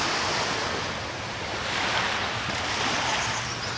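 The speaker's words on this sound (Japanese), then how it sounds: "じゃあ海のせせらぎがすごいいいですね。" Ocean surf washing onto a beach at Koh Lipe, Thailand, a steady broadband rush of waves with some wind noise, continuous and fairly loud, with no voices.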